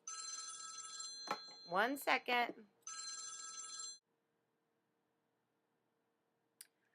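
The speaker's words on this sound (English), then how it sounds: "I'm sorry about that phone call." A telephone rings in bursts of electronic trilling during a lecture on the major American novel, two ringing spells broken by a voice speaking briefly, then silence with a faint click.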